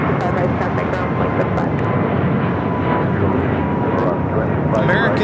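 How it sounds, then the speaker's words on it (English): An American Airlines Airbus A321neo taking off at LAX, a loud, steady jet engine roar filling the whole clip with a broad rumble and a faint whine, close and continuous without pause. "American Airlines 1103 taking off to Miami, Florida on the A321neo"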